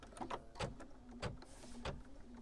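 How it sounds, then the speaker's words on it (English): A Bernina embroidery sewing machine starts stitching with no hoop attached, giving a rapid mechanical clatter of the needle bar in repeated bursts about every half second, close and moderately loud. "I'm going to start sewing."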